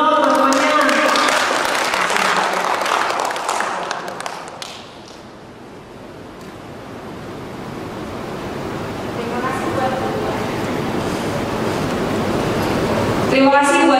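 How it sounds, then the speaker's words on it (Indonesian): Applause from friends at the close of a public speaking event, opening with talk over clapping, then a long wash of dense, fainter clapping that swells again before voices return. "Tepuk tangan dulu dong teman-temannya"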